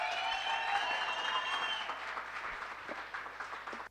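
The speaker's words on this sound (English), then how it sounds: "Please give a round of applause." An audience at a gala dinner applauds a speaker, a dense wash of clapping that holds steady and slowly thins toward the end.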